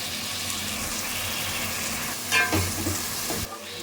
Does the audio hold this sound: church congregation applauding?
no